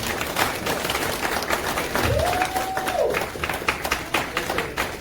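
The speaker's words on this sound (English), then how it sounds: "Could you please give a round of applause for him?" Audience applause for the MC at a Ghanaian political gathering, a dense clatter of clapping hands from a crowd that goes on throughout, with a brief whistle-like tone in the middle.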